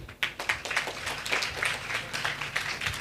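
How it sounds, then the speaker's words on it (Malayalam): An audience at a mentalist's stage show claps on request, a crowd applauding steadily with distinct individual claps standing out throughout. "ഒന്ന് ക്ലാപ്പ് ചെയ്യോ?"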